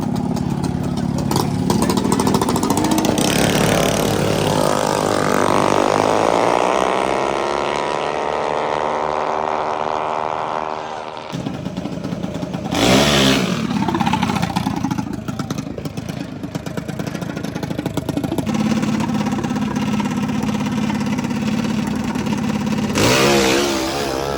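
Mini bikes and small engines at a world-famous drag strip, including a supercharged four-cylinder wheelbarrow, with loud close revving and a rising acceleration sweep, clattering idle, and another burst of revving later, with a voice talking under it.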